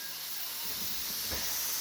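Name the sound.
pressure canner venting steam while canning lima beans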